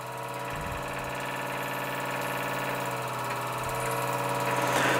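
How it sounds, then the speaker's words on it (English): A Mamod ME3 marine model steam engine runs steadily, a continuous close mechanical chugging hum with a dense, even rhythm that holds level and swells slightly toward the end, with no voices. "Mamod ME3 Marine Steam Engine."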